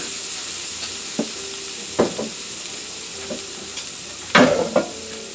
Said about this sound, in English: Cook my salmon.